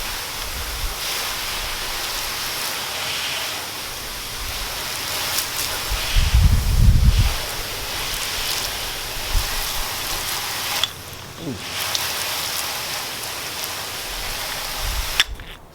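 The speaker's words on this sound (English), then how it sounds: "I'll spray some water on here and see how watertight this thing is" A steady hiss of water spraying onto an LED car headlight continues throughout, close and fairly loud, with a brief low rumble partway through.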